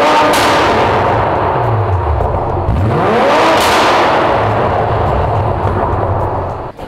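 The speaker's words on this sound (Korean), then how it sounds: "이 차량 배기음 들어볼게요." A BMW 8 Series 840i xDrive M Sport First Edition Gran Coupe revving, loud deep exhaust blips that swell and fall in two big surges with crackling roar, close and alone.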